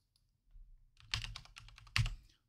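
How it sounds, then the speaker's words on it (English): Keys clatter on a computer keyboard as a column name is typed into a machine learning tool, a quick run of close, moderately loud keystrokes with a couple of sharper taps, no talking. "So I'll type in charges"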